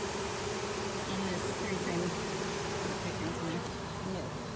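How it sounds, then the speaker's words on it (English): A swarm of honeybees, freshly scooped from a tree into a container, buzzes in a steady, dense hum that holds at an even level throughout. "They are buzzing."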